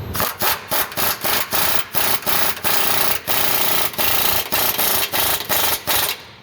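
A 3/8-inch hand ratchet clicks in a quick, steady rhythm while tightening a bolt on a Ford Super Duty shock: short bursts of rapid ratcheting strokes repeated over and over, close up, with no talk.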